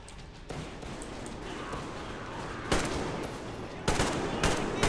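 Gunfire in Metro Exodus, a steady muffled background rattle punctuated by two louder, sharper bursts of shots later on, heard close without any talk.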